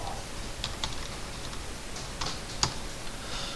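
A few sparse key presses on a computer keyboard while entering an AutoCAD command, faint clicks spaced irregularly over a quiet room hum.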